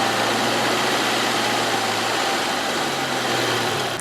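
A newly installed car engine runs on after its first start and is put in gear, giving a steady, even drone with a low hum throughout, close and constant with no talk.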